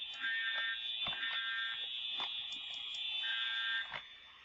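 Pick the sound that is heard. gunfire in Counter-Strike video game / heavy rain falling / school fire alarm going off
school fire alarm going off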